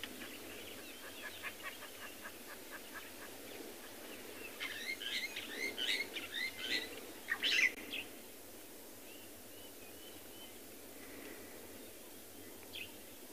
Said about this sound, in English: You can hear that noise. That's a lilac breasted roller. And also the starlings.